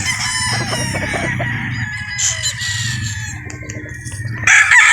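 A rooster crows nearby with a long, strained call, followed by clucking and other chickens in the background.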